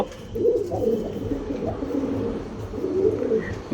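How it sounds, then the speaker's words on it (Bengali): Pigeons in a cage on a rooftop aviary cooing close by, with low rolling coos that overlap and swell in waves across the few seconds. "আমি এই কবুতরগুলোকে আলাদা এই খাঁচার মধ্যে রেখে দেব"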